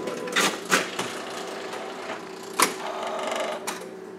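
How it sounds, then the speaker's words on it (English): A Canon imageRUNNER Advance C2030 office copier warms up with a steady mechanical whir, broken by several sharp clicks and clunks from inside the machine, close and fairly loud with no talking. "it says printer is warming up now instead"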